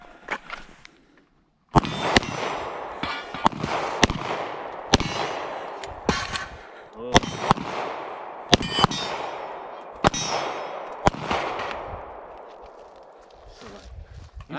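Gunshots ring out at falling steel targets during a shooting drill outdoors, a rapid run of about a dozen sharp cracks with metallic clangs and ringing decay between shots after a brief pause.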